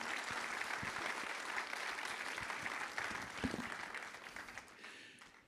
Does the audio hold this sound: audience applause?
yes